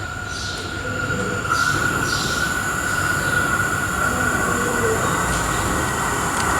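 Calgary C-Train Red Line train pulling into a downtown station during heavy rain, a steady rumble of wheels with a high squeal running throughout, close and continuous.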